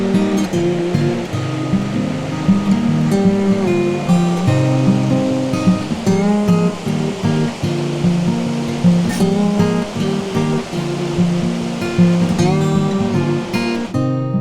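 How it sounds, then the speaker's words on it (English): A river near Watersmeet in Devon flows below a high woodland path, a steady, full rushing wash that carries on without a break. "So you can hear the river below you, but you don't see it that often yet."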